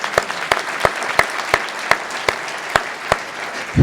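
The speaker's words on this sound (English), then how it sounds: "let's give that a round of applause" Sparse audience clapping at a library community event, a few loud individual claps landing in a loose, slow rhythm, close and clear against a quiet room.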